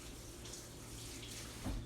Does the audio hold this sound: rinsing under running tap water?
yes